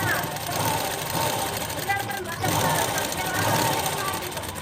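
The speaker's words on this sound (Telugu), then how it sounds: "ఇప్పుడు ఇంకో స్టిచ్ కూడా వేసేస్తాను" A sewing machine stitches cloth for a long frock, its rapid mechanical whirring running in short bursts beneath a person talking.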